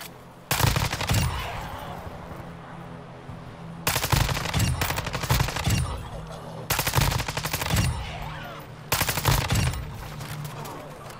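Gunfire in the video game Warzone Zombie Royale, loud bursts of rapid automatic fire arriving in four long volleys with brief gaps between them, close and dense, with no talking.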